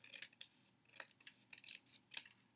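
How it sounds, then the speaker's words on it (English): Several short, crisp scissor snips cutting planner paper, fairly close, in quick uneven bursts with brief pauses between, no voices. "Gotta use my trusty old scissors now."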